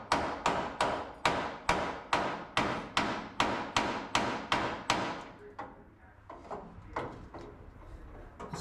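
Rapid, regular ball-peen hammer strikes on metal ring out about twice a second, sharp and close, then slow to a few scattered taps.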